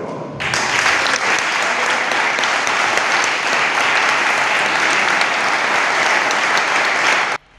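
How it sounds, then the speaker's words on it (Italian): Long, steady applause fills a council chamber during a presentation ceremony, dense and loud from start to finish before cutting off abruptly. "ha ricevuto un lungo applauso durante la cerimonia di presentazione svoltasi all'interno dell'aula consiliare del comune Nisseno"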